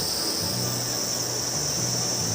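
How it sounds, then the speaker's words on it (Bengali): Crickets chirp in a forest in the morning near Changey Falls in Kalimpong, a continuous high buzzing drone that stays even throughout, with a faint low rumble beneath and no talking. "শোনা যাচ্ছে ঝিঁঝি পোকার আওয়াজ"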